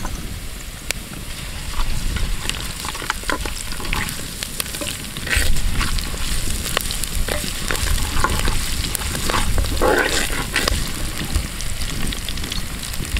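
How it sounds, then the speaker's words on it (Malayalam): Bird's eye chillies sautéing in a pan over a low flame, a dense continuous crackling sizzle with scattered pops and occasional stirring scrapes, close and steady throughout with no talking. "ഇത് വഴറ്റിയെടുത്തതിലേക്ക് നമുക്ക് കുറച്ച് നമ്മുടെ കാന്താരിമുളക് ഇട്ട് കൊടുക്കാം"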